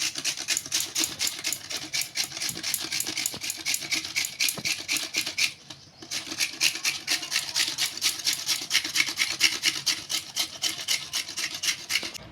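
Cauliflower for veg pakora scraped by hand on a grater gives a fast, even train of close rasping strokes, with one short pause before the rhythm picks up again.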